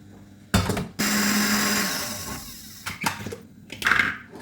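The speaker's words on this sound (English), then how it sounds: "First, we are blending the pepper and the onions." A blender whirs loudly through peppers and onions, a brief burst followed by a long steady grinding run that winds down, with a few clattering knocks near the end.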